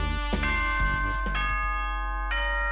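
A chiming ding-dong announcement jingle from the Danganronpa video game rings out in a sequence of bright, sustained bell-like tones, with a final chime entering near the end, clear and prominent with no talking.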